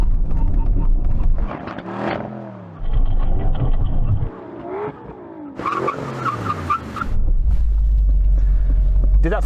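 Aston Martin Valkyrie, Vanquish and V12 Vantage cars in a brake test, loud engines revving and accelerating, then hard braking with tire squeal, punctuated by bursts of engine roar, with voices talking over parts of it.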